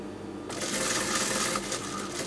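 A sewing machine stitches a garment seam up to the edge of the round cut at the back neckline, a dense close rattling whir that starts abruptly after a quieter moment and runs on steadily.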